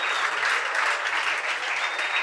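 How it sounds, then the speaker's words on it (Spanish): A church congregation welcomes first-time visitors with warm applause, steady and full clapping from a large crowd throughout. "Un aplauso para ustedes."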